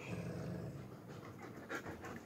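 A dog pants rapidly and steadily at close range, quick rhythmic breaths over a soft background with no talk.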